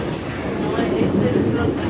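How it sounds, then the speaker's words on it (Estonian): A double-decker passenger train gives a steady, continuous rumble, heard from on board under people talking. "Kahekordne rong."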